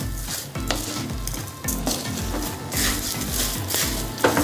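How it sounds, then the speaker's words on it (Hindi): Carrot halwa in a pan being stirred with sugar mixed through, producing a steady frying sizzle with repeated scraping and stirring strokes, fairly close and continuous with no talk. "चीनी को हम मिक्स कर देंगे चारों तरफ"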